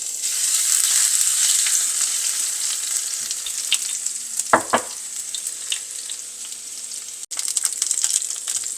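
Cumin seeds and crushed garlic hit hot oil for an ivy gourd stir-fry, giving a steady close sizzle that runs throughout. A couple of brief clinks from stirring come near the middle and toward the end.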